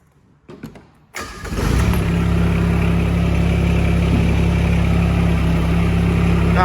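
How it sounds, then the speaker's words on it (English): Emax 20S compact tractor starting up: a few brief cranking sounds, then the engine catches and settles into a steady, loud idle close by. "Go ahead and fire up the tractor here."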